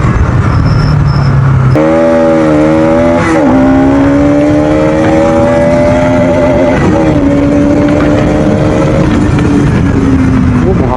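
A Bajaj Pulsar NS 200 motorcycle being ridden, its loud engine note climbing and holding through the gears, close and continuous with wind rush throughout.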